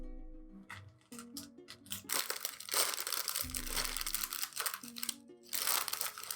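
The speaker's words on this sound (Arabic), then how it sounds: "ده رابع كيس معانا اهو." A bag of plain salted potato chips crinkles and crunches in bursts, loud and close, with short rustles between louder handling, and no talk.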